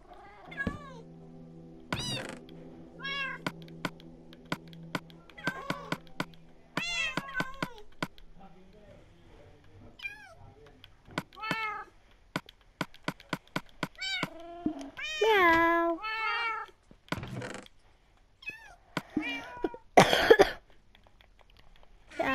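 Cartoonish cat meows from the Minecraft video game, repeated many times in short bursts throughout, mixed with coughs and throat-clearing sounds and occasional game clicks.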